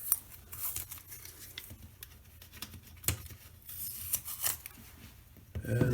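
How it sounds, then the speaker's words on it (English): Tape peeled slowly off a glued plastic bathroom tile, giving close crackling, ticking rips and rustles in uneven bursts, with a louder handling thump at the end. "I usually hold the tile that I glued and carefully peel the tape off."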